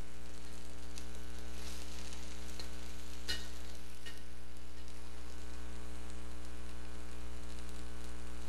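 Fish fillets stir-fry in a wok just after a splash of water goes in, giving a loud, constant sizzle with a low electrical hum underneath and a couple of brief sharp clicks.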